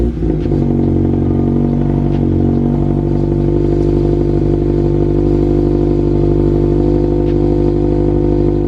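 A Scion FR-S, Subaru BRZ or Toyota GT86 boxer engine fitted with a catted header exhaust starts up and settles into a loud, steady, rumbling idle close by.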